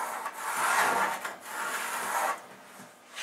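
A pencil draws a curved line on a wooden picture-frame blank, making close, scratchy rubbing in two long strokes with a short pause between them and a brief scrape at the end.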